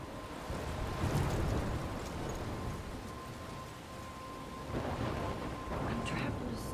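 A thunderstorm with rain in Life is Strange, a continuous heavy rush of rain with low rumbling thunder swelling early and again later, and faint voice traces underneath.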